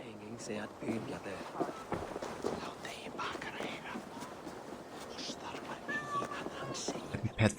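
A cat meows a few times in Assassin's Creed Valhalla, the high mewing calls coming at intervals over soft, whispery game ambience and quiet speech.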